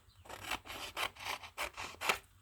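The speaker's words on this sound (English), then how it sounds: "I kind of find the sound of scissors and paper sort of therapeutic." Rhythmic rasping cuts of scissors through paper, about six strokes in a steady sequence, close and clear with no voices.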